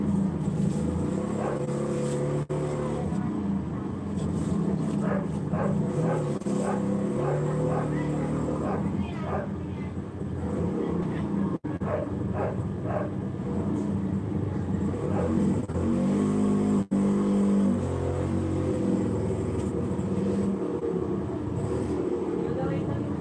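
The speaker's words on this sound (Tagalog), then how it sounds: "ayan, tika, may tricycle." A tricycle passes on a roadside with a loud, steady engine rumble that lasts throughout. A person talks over the traffic noise.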